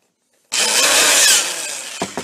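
An old electric power drill whirs loudly and steadily for about a second, then winds down and keeps running lower, with a couple of short clicks near the end.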